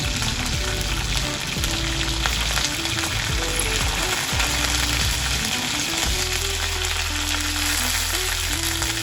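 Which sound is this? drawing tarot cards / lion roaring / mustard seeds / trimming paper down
mustard seeds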